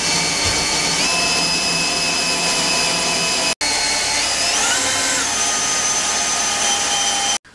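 A power drill bores relief holes into the steel frame of a Ford Transit, a loud steady high whine running continuously, pausing briefly midway and cutting off at the end, with no talk.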